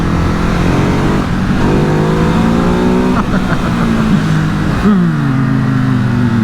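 A Ducati Hypermotard 950 SP motorcycle engine sounds loud and close, droning steadily with sharp rising blips as it downshifts, the pitch swinging up and then falling away.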